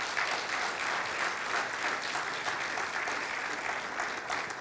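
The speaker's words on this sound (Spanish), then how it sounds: "Dale un aplauso de alabanza a Él." Church congregation clapping in praise during a sermon, a sustained dense round of applause that fills the room evenly from start to finish without any voice over it.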